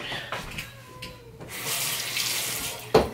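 Water runs from a sink tap, shifting as a hand moves under the stream, with a brief splash near the end.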